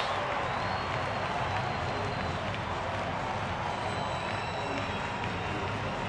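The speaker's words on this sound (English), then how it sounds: "Crowd rises to its feet" A baseball stadium crowd cheers and applauds in a broad, steady roar that holds at an even level throughout, heard at a distance.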